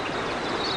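The Cox's River flows behind a campsite in Marrangaroo National Park, heard as a steady broadband rush of water, continuous and fairly loud with no voices over it.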